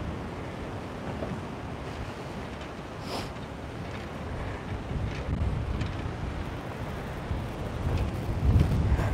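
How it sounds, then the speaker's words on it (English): Strong wind roars at a fishing pier at night with a constant low rumble and buffeting on the microphone, surging slightly louder near the end, no voices. "Wow, it's so windy here"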